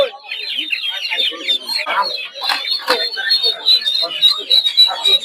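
Several chickens cluck loudly and continuously close by at a poultry market in Narsingdi, their calls overlapping in a busy chatter, with faint human voices in the background.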